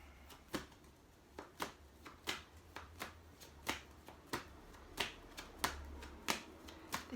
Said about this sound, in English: This is the slowest shuffling ever.